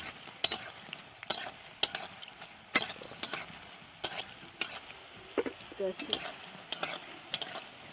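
Carrots fry in a pan, and a spoon scrapes and clinks against it in a series of sharp, irregular strokes over a soft, steady sizzle.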